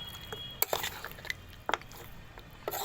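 A spoon stirring ground whole-spice mix into mutton in a pot for Bengali mutton kosha, giving a few sharp metallic clinks and scrapes spaced irregularly over a quiet background, with no voices.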